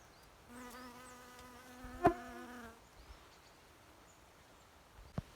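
A single bee hums loudly as it passes close by, its buzz rising and fading against quiet outdoor background.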